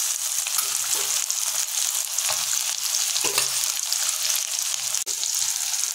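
Chopped onion sizzling in hot oil in a wok, a steady bright frying hiss with occasional stirring scrapes and light clinks, close and continuous.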